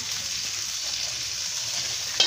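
Chana dal sizzling and frying in hot ghee, a steady, close, even hiss throughout with a slight clatter near the end and no talking.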